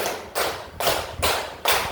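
Four sharp hand claps from a group, evenly spaced about every 0.4 seconds, each a crisp broadband burst rising from a quiet room background with no talk.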